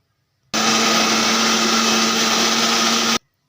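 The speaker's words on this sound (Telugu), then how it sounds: "వేసుకొని మిక్సీ అయితే పట్టుకుందాం ఇప్పుడు మెత్తగా" An electric mixie grinds onion and chilli with rock salt into a coarse paste for spinach onion curry: one loud, steady whirring motor burst lasting about two and a half seconds, starting and stopping abruptly, with no voices.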